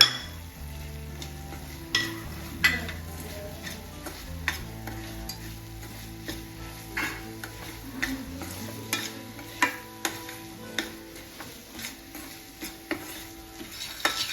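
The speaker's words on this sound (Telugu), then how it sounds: "మనం ఇలా ఇదంతా కొంచెం గట్టిపడే వరకు మనం ఇలా తిప్పుకుంటూ ఉండాలండి" A spoon scrapes and stirs a thick coconut and jaggery mixture in a pan, with soft sizzling underneath and repeated metallic clinks against the pan's sides.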